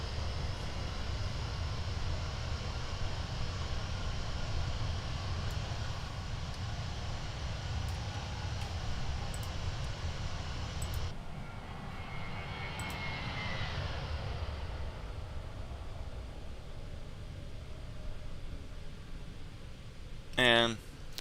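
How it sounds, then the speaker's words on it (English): Airliner jet engines cruising in Microsoft Flight Simulator 2024 give a steady, even broadband drone that holds throughout, ending with a brief sharp rattle. "You can hear the engine start kicking up."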